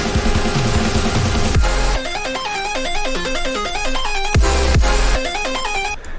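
Melodic dubstep intro plays with a bouncing synth melody over deep bass hits and sweeping drops, loud and continuous throughout.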